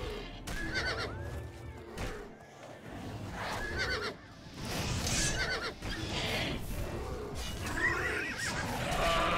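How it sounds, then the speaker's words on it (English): A horse in the video game Oblivion neighs and whinnies repeatedly, with hoof clip-clops and game effects scattered through a busy, continuous mix. "Really want my horse dead, don't you?"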